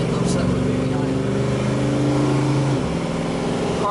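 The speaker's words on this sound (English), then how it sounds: "Car shifts. It has nice, firm, positive shifts to it." 1973 Dodge Charger accelerating hard, its engine droning up in pitch before a clear gear change drops the revs, loud and close from inside the car.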